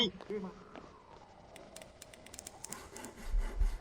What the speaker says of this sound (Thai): กูจะเลื่อยไหม